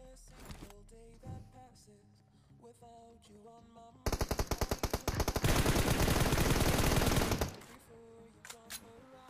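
Machine gun fire rings out in a shooting video game as a loud, rapid sustained burst of shots lasting about three seconds, set against quieter game sounds and background music.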